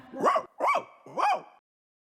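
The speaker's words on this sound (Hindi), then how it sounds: "नहीं बार्टोलीटो, वो एक कुत्ता है।" A cartoon dog in a Hindi children's farm rhyme barks three times, evenly spaced, loud and close with no other sound around it.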